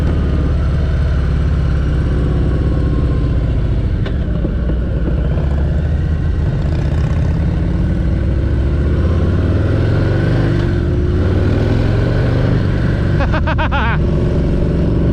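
Engine roar from a 2023 Harley Davidson Heritage Classic with a 114 engine, loud and continuous throughout the ride, rising and falling as the rider accelerates, with wind rumble.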